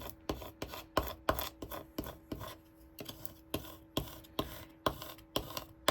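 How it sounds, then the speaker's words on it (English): Transfer tape is rubbed down onto cut vinyl to burnish it, a soft rhythmic scraping that repeats about twice per second, quiet and close, with no talking. "you're burnishing it, which means you're just rubbing this on."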